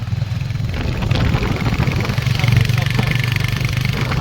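A new Royal Enfield 350 motorcycle engine idles close by, its low, steady, throbbing note holding evenly throughout.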